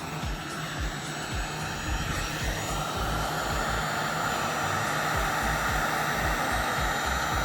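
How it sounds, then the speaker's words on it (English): A heat gun blows with a steady, loud, jet-like roar while wires are soldered and plastic melts on the rear fender of a Harley-Davidson Iron 883 during an LED light install, with no talk over it. "and they get soldered with the heat gun"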